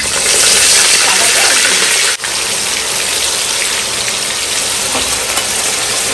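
Onions frying in a pan for a home-cooked Assamese fish dish, a loud dense sizzle like heavy rain that runs nonstop with one brief dip midway.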